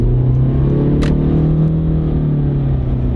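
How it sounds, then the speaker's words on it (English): A Honda car with a CVT transmission accelerates, its engine holding a loud, steady droning rev under throttle with a deep rumble and a constant mid-pitched whine, heard from inside the cabin. "Give it a little gas."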